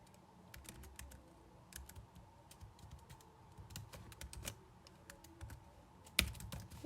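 Computer keyboard typing code, steady light keystrokes in irregular bursts, close and fairly quiet, with a sharper louder click near the end and no talk.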